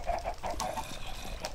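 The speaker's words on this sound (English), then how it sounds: "Look at all those cave chickens." A flock of cave chickens clucks in a video game dungeon, several quick, overlapping clucks close by over a low background rumble, with no talking.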